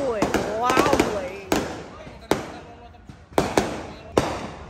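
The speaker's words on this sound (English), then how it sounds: "you love the fireworks." Sharp fireworks bangs crackle at irregular intervals in Fiji, several loud pops over a few seconds, with people talking and shouting in between.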